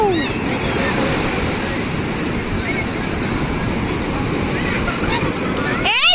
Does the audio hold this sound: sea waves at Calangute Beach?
yes